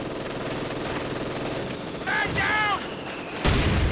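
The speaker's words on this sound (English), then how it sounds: "Mortar rounds falling through the sky." Mortar rounds and gunfire from a Company of Heroes 2 battle: steady distant rattling fire underneath, a whistling incoming shell near the middle, then a sharp impact right at the end.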